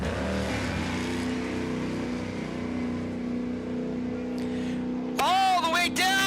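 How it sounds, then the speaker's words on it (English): A wheel-standing school bus launches down a drag strip at a nitro funny car nationals event, its engine a loud steady roar throughout, with a sharp rise in pitch and volume near the end as it accelerates hard. "one-of-a-kind, wheel-standing school bus"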